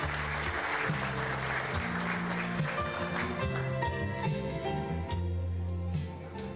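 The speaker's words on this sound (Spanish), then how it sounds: "Fuerte el aplauso para Graceidi." Sustained, steady applause fills the hall at a 2017 graduation certificate-signing ceremony in El Níspero, honoring a graduate in accounting and finance, with music playing beneath the clapping throughout.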